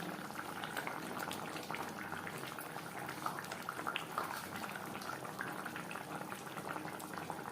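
Tilapia fish curry simmers in spicy gravy with a steady, dense bubbling and popping that stays close and even throughout, with no voices.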